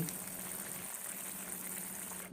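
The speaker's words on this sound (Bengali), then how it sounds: "মাছ ঝোলে ভালো মতো ফুটিয়ে নিলাম" Koi fish curry with cauliflower and peas simmering in a pot, a steady bubbling hiss that continues evenly with no voices.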